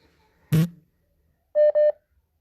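Telephone dialing tones on a call: a short burst of noise, then two or three clear electronic tone beeps in quick succession, loud and close with no talking.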